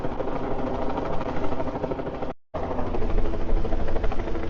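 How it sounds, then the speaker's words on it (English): A helicopter's blades and engine roar close and loud in a steady, pulsing whir that cuts out for a moment midway and then resumes at full strength. "that's what you're probably going to hear. The helicopter, blades, the propellers,"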